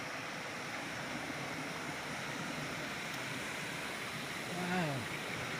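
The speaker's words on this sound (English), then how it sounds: "I'm gonna walk down to the river a little bit and just observe this waterfall" A river waterfall in the Jamaican mountains gives a faint, steady rushing hiss of falling water, heard at a distance, with a brief low vocal sound near the end.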